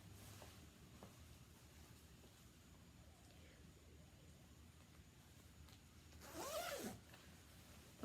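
A zipper is drawn up the front of a Figs Bellery jacket in a quiet room, a single quick rasp lasting under a second against faint background hiss.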